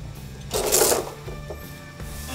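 Chain binder being ratcheted tight from underneath a CNC machine strapped down for transport, a short metallic clicking and rattling burst that swells briefly then settles, with low background rumble.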